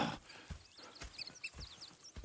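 Horse hooves in Red Dead Redemption 2 clop at a steady walking pace, fairly quiet, with light birdsong chirping in the background.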